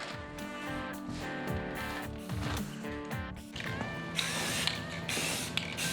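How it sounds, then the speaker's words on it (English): Spray paint can being forced open, a string of clicking, ratcheting and creaking plastic-and-metal sounds, close and fairly loud, with effortful scraping toward the end and no talking. "spray paint cans have gotten harder to open lately"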